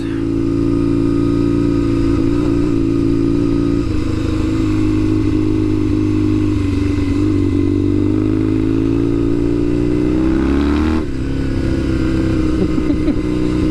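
A Kawasaki KZ750 scrambler motorcycle on knobby tires rides on pavement, its engine droning loud and close with a steady, rising pitch, then a brief dip and shift near the end.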